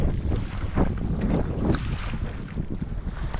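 Strong wind buffets the microphone in gusty, roaring bursts at the sea, with a low rumble of open water beneath and no voices.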